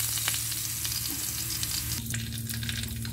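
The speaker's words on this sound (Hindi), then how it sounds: "जनाब सॉस हमारा फ्राई हो रहा है" Sauce fries in olive oil in a pan, a continuous close sizzle with occasional stirring scrapes and a low steady hum beneath, no one speaking.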